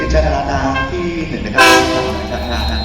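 Loud horn blast from a Thai special express train 22 running from Ubon Ratchathani to Sisaket, sounding over steady onboard rail rumble and clatter of the moving carriage.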